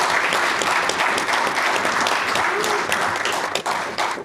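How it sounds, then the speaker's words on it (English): Applause from an audience at an event marking the FEC at 50, dense sustained clapping filling the room, close and loud throughout. "can you give them all a big round of applause?"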